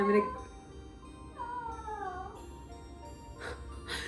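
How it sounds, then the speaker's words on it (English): Pet cat screaming indoors: a drawn-out, wavering yowl in the middle, with brief sharper cries at the start and end over a quiet room hum. "That's Rogue, my cat, screaming."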